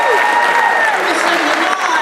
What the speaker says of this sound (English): give them a big round of applause for the entire cast!